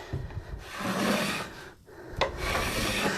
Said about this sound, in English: So I'm scraping with the grain of the wood with a nice even pressure.